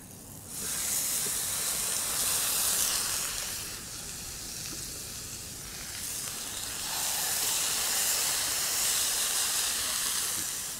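Sea bass laid onto a hot oiled grill for a seafood dish sizzles loudly and steadily, a broad hiss that swells, dips briefly, then rises again with no talking.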